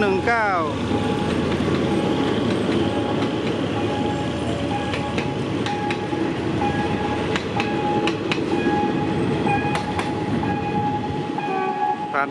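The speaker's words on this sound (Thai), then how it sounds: "ส่วนขบวนนี้ครับนี่ลากหัวรถจาก GEA นะ" A freight train hauled by a GEA locomotive rolls past close by, a steady loud rumble of wagons with rhythmic wheel clacks and squeals running throughout, while someone talks over it.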